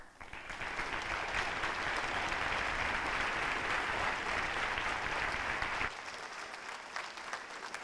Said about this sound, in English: please stand up and give a round of applause as well.